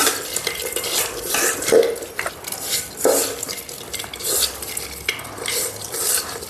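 Roasted tomatoes are mashed by hand with salt for pachi pulusu, making continuous wet squishing and squelching close by, with uneven swells and no talking.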